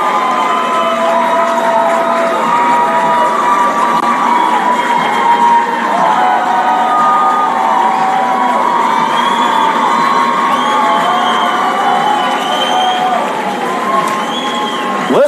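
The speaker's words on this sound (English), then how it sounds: "Listen to the crowd." A large crowd at a high school baseball regional championship cheers and shouts continuously, loud and sustained, with whoops and excited voices blending into a celebratory roar.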